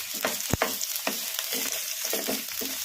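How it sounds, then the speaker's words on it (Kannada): Sliced onions fry in hot oil over a medium flame, a continuous close sizzle broken by repeated scraping and stirring strokes in the pan, with no talking. "ಉಳ್ಳಾಗಡ್ಡಿ ಗೋಲ್ಡನ್ ಬ್ರೌನ್ ಕಲರ್ ಬರೋವರೆಗೂ ಫ್ರೈ ಮಾಡ್ಕೊಂಬಿಡೋಣ ಮೀಡಿಯಂ ಫ್ಲೇಮಲ್ಲಿ."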